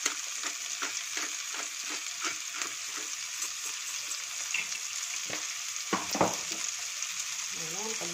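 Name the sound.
stirring chicken and vegetables frying in pan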